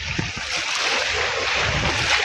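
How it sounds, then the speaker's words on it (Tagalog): Strong waves wash against a rocky shore on an island fishing trip, a loud continuous rushing surf with low thumps, heard close. "Lakas ng alon guys."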